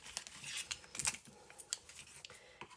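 Scissors snipping paper while cutting off excess from a junk journal cover, a quick run of crisp, close cuts with small rustles of paper in between.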